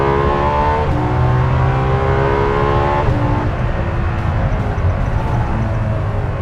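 A Ferrari LaFerrari sports car accelerates hard, its loud, close engine note climbing in pitch, dropping at gear changes and climbing again.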